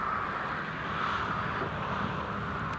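A Luftwaffe Airbus A321neo arrives at Newcastle Airport, its engines a continuous, even roar heard from some distance with no breaks.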